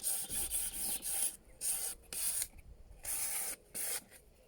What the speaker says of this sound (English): I'm going to sand that whole bit.